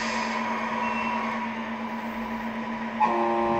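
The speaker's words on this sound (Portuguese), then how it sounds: "Buzina." A steady Scania R620 truck engine drone in a video game, then a sudden loud horn blast near the end that holds as a sustained tone.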